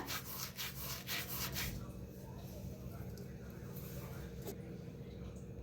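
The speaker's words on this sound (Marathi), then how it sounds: "ओवा हातावर असा घासून घालायचा" Carom seeds (ajwain) are rubbed between the palms over semolina flour for puri dough, giving a quiet rapid series of dry brushing strokes for under two seconds, then faint room hum.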